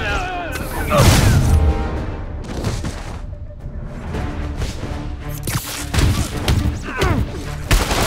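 RPG rockets in Marvel's Spider-Man game blast and thud repeatedly with heavy booms and crashes, several bursts spread across the stretch amid game music and noise.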